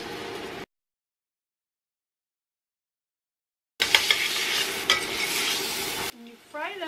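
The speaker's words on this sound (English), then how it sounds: "you fry them for about 3 minutes each side" Salmon cakes frying in a pan on an induction cooktop set to 375 degrees, a close sizzle with stirring and utensil clinks, broken by a long stretch of silence before the frying resumes.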